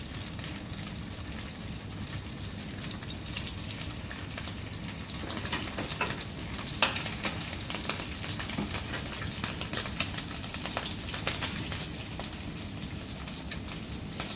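Scallops sear in a hot pan with a steady close sizzle that holds level throughout, dotted with small pops and crackles and no voices.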